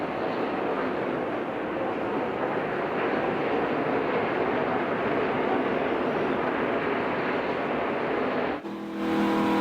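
Onboard view of a NASCAR truck at full throttle in the Lucas Oil 150 race, with a loud, continuous engine roar held at steady pitch without shifting, then an abrupt cut near the end.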